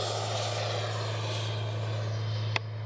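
A Freewing Avanti S 80mm electric ducted-fan RC jet making a full-speed pass, a steady loud airy whine and rush throughout with a low hum beneath and a brief click near the end.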